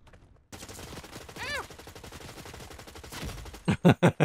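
Gunfire in the Fortnite video game on a body cam custom map, with three or four loud, sharp shots bursting near the end after a stretch of game sounds and noise.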